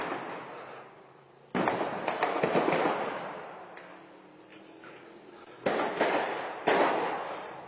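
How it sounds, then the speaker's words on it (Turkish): Several heavy blasts from an exploding ammunition depot boom in the distance in Afrin, each followed by crackling, rumbling bursts that fade before the next explosion hits. "Çok büyük bir patlama daha oldu şu anda."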